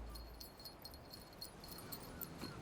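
A puppy on a beach whimpers faintly in short, thin cries over a quiet, steady background.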